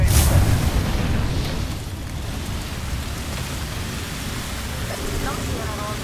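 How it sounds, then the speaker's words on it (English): A thermite grenade burning in the video game Apex Legends gives a steady, rain-like crackling hiss. It starts with a louder burst, then settles into an even rushing sizzle that holds at a fairly close level throughout. "Thermite grenade."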